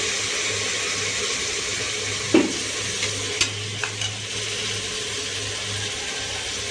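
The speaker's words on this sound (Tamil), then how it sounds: "இல்லைன்னா 1/4 கிலோ தக்காளியை போட்டு நல்லா வதக்கலாம்" Onion or tomato sautéing with ginger garlic paste in a pan for biryani, a steady soft stirring and sizzling with a few sharp scrapes and taps of the spoon, close and without talk.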